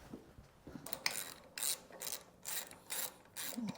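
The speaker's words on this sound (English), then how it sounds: "we're gonna run these bolts down tight" A hand ratchet runs brake bolts down tight on a rear brake job, giving bursts of quick clicking strokes in an uneven rhythm, close and fairly quiet, with no talk.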